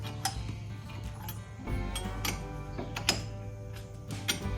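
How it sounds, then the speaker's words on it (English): A tightening tool cranks against a brake caliper piston on a 2009 Chrysler Town & Country, giving repeated close metallic ticks and clicks in an uneven ratcheting rhythm, with no voices. "you start tightening it, and what it does is it pushes that piston back."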